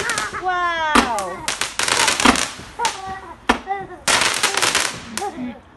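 Fireworks go off on Guy Fawkes Night, with a string of sharp, loud bangs and crackles bursting in quick irregular bursts nearby, and excited voices and a whistling rise between shots.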